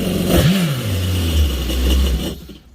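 A Kawasaki STX 15F jet ski engine, out of the water for an oil change and winterizing, gets a quick rev: a sharp rise in pitch, then a settling idle rumble that cuts off abruptly into quiet.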